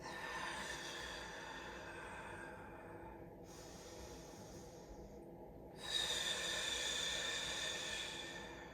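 Slow nasal breathing held in a yoga pose, a long soft exhale, a pause, then a sharper snort-like breath, close and quiet with no talk.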